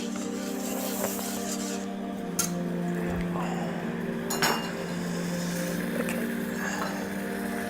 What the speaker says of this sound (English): So you can also just give it a quick stir.